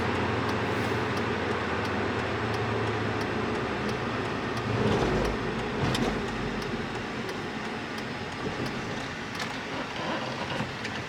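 A 2006 PT Cruiser GT Turbo with a five-speed manual driving along a side road, a steady engine and road drone filling the cabin with a brief surge midway and no talking.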